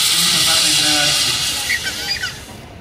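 Steam locomotive releasing a steady, broad hiss of steam at close range, loud at first and easing slightly toward the end, with faint low rumbling beneath.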